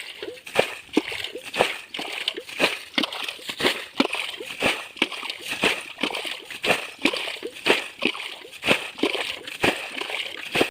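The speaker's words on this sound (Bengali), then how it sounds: "এই পাশে ধানের মধ্যে জলটা ফেলবো আমরা" Water bailed by hand out of a village ditch and thrown into a rice paddy, a steady rhythm of close splashes and sloshes about once per second, repeating throughout.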